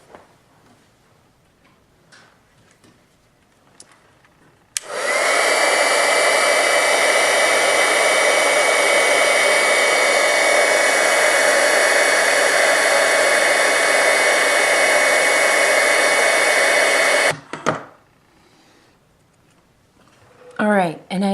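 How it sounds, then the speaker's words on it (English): Heat tool blows hot air to melt embossing powder, a loud steady roar that starts abruptly, runs unbroken for about twelve seconds and then cuts off, with quieter handling before and after. "So now what I'm going to do is I'm going to heat emboss"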